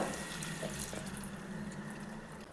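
Water is poured into a North Indian style potato gravy as a continuous soft splashing stream, steady and close, with a faint background hum.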